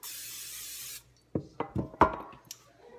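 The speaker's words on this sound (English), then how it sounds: "I'm going to spray this one with olive oil" A steady hiss of olive oil spray lasts about a second, followed by several clunks and knocks of a bread loaf pan being handled nearby.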